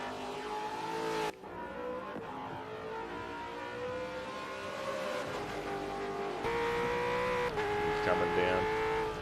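A Supercars race car at Bathurst sweeps past, its engine note climbing through gear changes with sharp shift breaks, sustained and somewhat distant.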